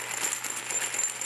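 Metal zipper pulls on a Waterfly hiking fanny pack jingle close up, a bright continuous rattle of small metallic clinks like loose coins, with no talk over it.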